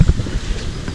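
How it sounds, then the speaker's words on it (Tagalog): Strong typhoon wind gusting around a street stall with a tied-down umbrella, buffeting the microphone in heavy low rumbles that ease off briefly. "Malakas ang hangin."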